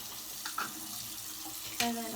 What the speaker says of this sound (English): Just like start the water